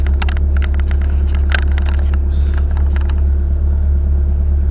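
A lifted van, Vanwilder, idles at stock height before a test drive, its engine giving a steady, close low rumble throughout, with faint clicks and rattles layered above.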